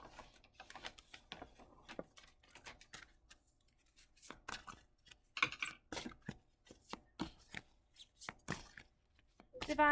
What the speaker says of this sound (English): So I'm going to go ahead and shuffle up the cards.